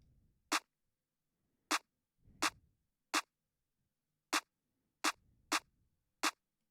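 A clap sample from the DP Beats kit, in a beat built in FL Studio, plays alone as eight sharp, dry hits at uneven spacing, fairly quiet, with faint low thumps between some hits.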